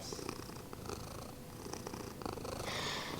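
Joy the cat purrs steadily close by, a continuous rumbling purr with soft rhythmic breaths that holds for the whole stretch without a break.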